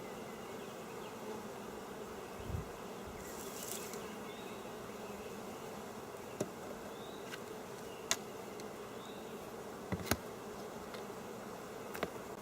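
Honeybees buzz steadily around an open beehive during an inspection, making a dense, continuous drone with a few faint clicks and knocks scattered throughout.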